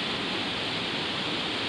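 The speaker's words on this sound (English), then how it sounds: "Here's the bottom of the waterfall that the lock's going around." Water rushing steadily at the base of a small waterfall beside a canal lock on the Cataraqui River, a constant broadband roar, close and unbroken, with no voices.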